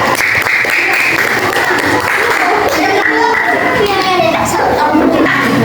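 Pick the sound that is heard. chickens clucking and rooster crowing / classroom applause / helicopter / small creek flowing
classroom applause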